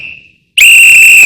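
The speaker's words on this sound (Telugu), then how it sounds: "సిగ్నల్ కాడ వాళ్ళు విజిల్ వేస్తారన్న" A traffic police whistle at a signal: a short faint tweet, a brief pause, then a loud, sustained shrill blast held to the end.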